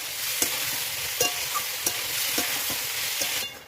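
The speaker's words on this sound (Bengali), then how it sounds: "এখন মশলার সঙ্গে ভালোভাবে কষিয়ে নেব।" Potatoes and drumstick pieces sautéing with spices in a pan for a Bengali fish curry, a steady close sizzle broken by a few light scrapes and stirring knocks, with no talking.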